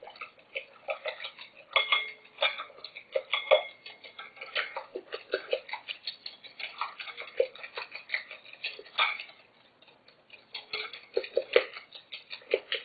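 A whisk rapidly clinks and ticks against a bowl while eggs are beaten into warm milk for caramel custard flan, a quick, steady, close-up rhythm with brief pauses.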